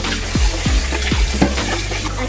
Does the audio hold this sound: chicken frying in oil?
yes